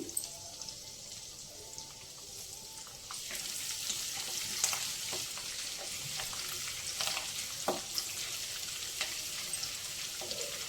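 Ginger and green chillies frying in oil for upma: steady close sizzling that grows louder partway through, with scattered crackles and pops and occasional stirring scrapes.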